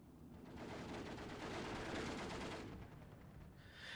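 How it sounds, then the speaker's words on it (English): Artillery guns boom repeatedly in Steel Division 2, a dense, sustained barrage of overlapping blasts that swells in the middle and then thins out toward the end. "I think he has about 4 guns shooting at me, and I have all 4 of mine shooting at him."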